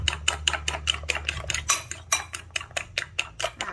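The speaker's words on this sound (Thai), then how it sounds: "แล้วก็ตีไข่ให้ไข่เข้ากันเนาะ ไม่ให้เหลือไข่ขาวเลยนะคะ" Eggs being beaten in a bowl with a fork or utensil for a Thai fluffy omelette, a quick steady rhythm of close, bright clinking strokes against the bowl, continuing without pause and with no talking.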